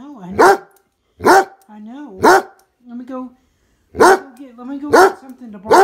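A dog barks in a sharp, repeated series of close, loud barks mixed with whiny yelps, indoors while it chews a moose-shaped slipper, with people talking nearby.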